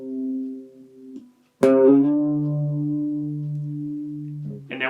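The tail of a guitar riff is played on guitar, with a slide into a low note. Sustained notes ring out clearly, one sharp attack lands midway, and the last note fades until a new note starts at the end.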